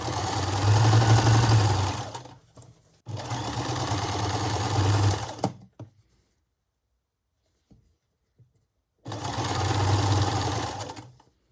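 A sewing machine stitches quilt seams in three loud, close bursts of rapid mechanical whirring, separated by short pauses and a longer quiet gap with faint handling clicks.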